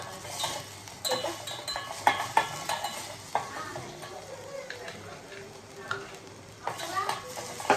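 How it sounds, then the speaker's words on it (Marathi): Egg curry gravy cooks in a pan with a soft sizzle while a spoon stirs and clinks against the metal in scattered scrapes and taps, quiet and close, with occasional speech. "आता ही व्यवस्थित मी ग्रेव्ही शिजवून घेणार"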